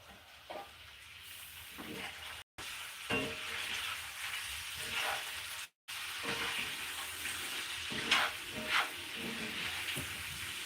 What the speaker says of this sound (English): Yeah, let me stir it.